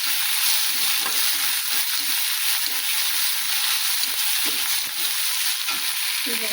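Onions frying in hot oil for masala paddu make a loud, steady crackling sizzle, with soft rhythmic stirring scrapes underneath, close and continuous.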